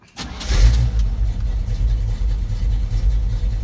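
GMC truck engine fitted with a new Holley 700 carburetor, starting and then running at a steady, loud idle with a deep low rumble that holds even to the end.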